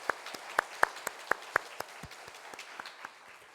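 A church congregation at a Sunday worship service claps to welcome newcomers, a sparse, scattered round of individual claps, fairly soft and tapering off after a few seconds.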